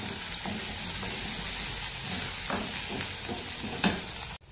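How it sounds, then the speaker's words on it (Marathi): Ground spices, red chilli powder, turmeric, salt, coriander powder and black masala, sizzle while being stirred in a pan for tomato curry, with soft scraping strokes and a small clatter near the end. "सगळ्यांना छान परतून घ्यायचं"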